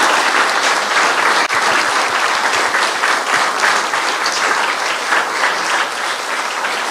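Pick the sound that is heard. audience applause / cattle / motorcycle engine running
audience applause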